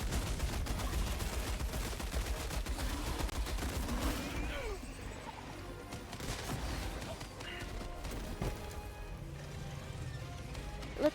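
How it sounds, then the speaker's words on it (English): Rapid machine gun fire in a video game, with dense, loud bursts of shots for the first few seconds that thin out into scattered pops and ricochet-like clatter over a continuous battle din. "Might not be very much because that's just a machine gun."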